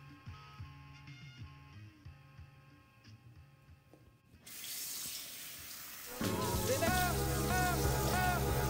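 Tap water runs into a bathroom sink during a night-time rinse, starting abruptly halfway through and rising to a loud, steady splashing rush, with quieter clicks and handling noises before it.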